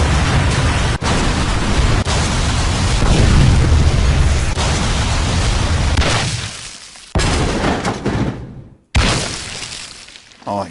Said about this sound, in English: So let's change the explosion sound to something better.